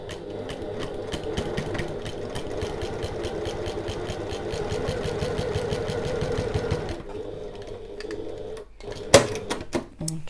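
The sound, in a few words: sewing machine back stitching a tote bag seam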